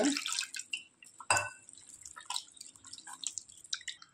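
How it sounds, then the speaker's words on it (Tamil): Water is added to thick, cooled ragi koozh and stirred, giving close, wet splashing and sloshing with dripping bursts and a sharp splash early on, intermittent and without any voices. "டம்ளர் தண்ணி சேர்த்து கரைச்சிக்கோங்க."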